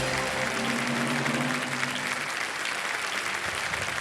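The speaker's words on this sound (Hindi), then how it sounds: "ताली उधर बजती है।" A studio audience on a quiz show bursts into loud, dense applause that holds steady for several seconds, close and continuous.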